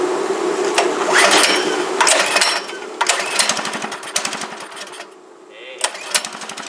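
A Predator 212 small engine with a newly installed 18 lb valve spring runs cold, rattling steadily and roughly, close by and loud, its pace surging and dipping and briefly quietening before it picks up again.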